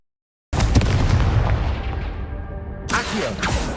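A fiery blasting-spell explosion from the Hogwarts Legacy video game: a loud, sustained booming blast with a rumbling tail, followed near the end by a second sharp burst.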